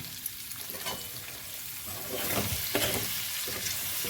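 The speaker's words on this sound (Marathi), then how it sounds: "पण आता हे मसाला असा तेलात परतून घ्यावी" Spice masala sizzling and frying in hot oil in a pan while cooking a fish curry, a continuous crackling hiss that swells louder midway, with no talking.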